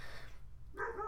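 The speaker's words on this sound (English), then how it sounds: "That's my dog is barking in the background." A dog barks in the background of a home workout space, a brief burst of yapping toward the end, faint and distant-sounding.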